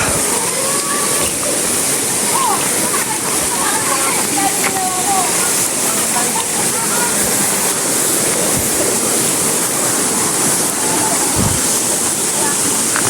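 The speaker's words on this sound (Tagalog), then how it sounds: "Ang katubigan." Rushing river water roars as a broad, steady wash, loud and continuous throughout, while riders talk over it.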